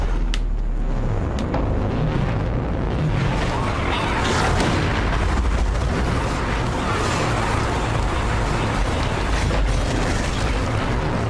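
Dense, continuous rapid gunfire and booming blasts from the video game Sundered, loud and sustained throughout with no pauses, layered over rumbling low-end combat noise.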